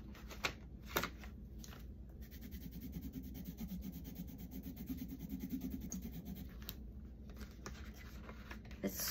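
A Faber-Castell watercolor pencil scribbles steadily on paper, a soft continuous rubbing and scratching up close, with a few sharper ticks of the lead at the start.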